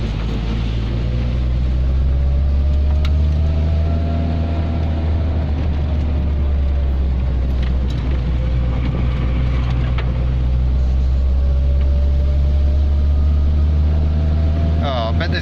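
A car drives a gravel road stage in Slovenia, its engine and tyre noise forming a loud, constant rumble from inside the cabin, with a steady engine tone wavering slightly in pitch.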